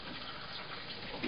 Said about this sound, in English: And add in my water.